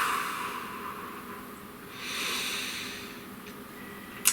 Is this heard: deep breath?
yes